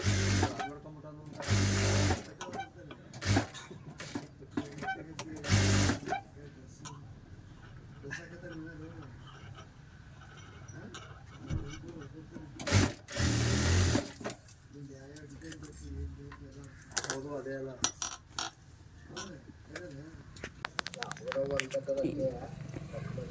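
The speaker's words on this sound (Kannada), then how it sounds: "ಈ ರೀತಿ 5 ಸ್ಟಿಚ್ ಮಾಡ್ಕೊಳ್ಳೋಣ" A sewing machine stitches a blouse hook strip in several short bursts of fast whirring, separated by pauses in which someone talks.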